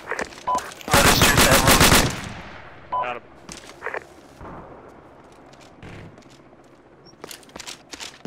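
Video-game gunfire in Arma 2 rattles out as a loud, close burst of rapid automatic fire, followed by scattered single shots and distant pops, with faint voices in the background.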